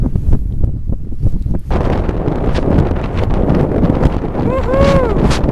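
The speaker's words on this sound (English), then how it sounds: "It's windy." Strong wind on Mount Rainier buffets the microphone in loud, rough gusts, with a brief lull early on and a faint whistling tone near the end.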